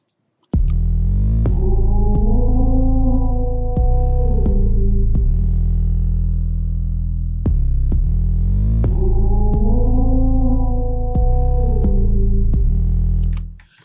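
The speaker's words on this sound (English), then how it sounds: "So I stretched the vocal, it pitched it down, and it gave me a neat sound." A stretched, pitched-down vocal sample in a trap beat drones in two long phrases with warbling, gliding tones, drenched in heavy reverb over a deep throbbing low end and sharp percussive hits.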